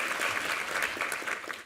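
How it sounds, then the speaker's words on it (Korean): Congregation in a Korean church Sunday service applauding the second-service choir, a brief steady patter of many hands clapping at moderate distance, fading slightly at the end. "우리 이부 성가대에게 힘찬 격려의 박수 부탁합니다."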